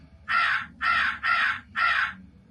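A raven caws four times in an even, evenly spaced sequence, each call loud, harsh and close, at a spooky-themed event at a railroad museum, with a quiet background and no talking.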